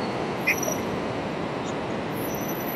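A local train pulls away from Kharagpur station, a continuous broadband rumble of wheels on rails with a faint high squeal and a brief clank early on; no one speaks.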